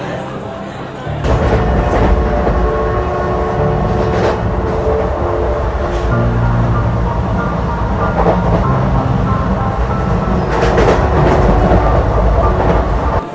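KRL commuter train rolling along the rails, heard from up on the roof: a loud, steady rumble with rhythmic clickety-clack of the wheels that runs without a break after a quiet first second.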